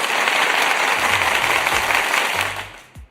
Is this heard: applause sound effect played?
yes